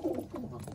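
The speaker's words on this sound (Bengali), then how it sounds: "খুব ভালো কোয়ালিটির একটা পায়রা" A Madras pigeon gives a brief, low, throaty coo close by, a couple of soft rolling pulses under faint background noise.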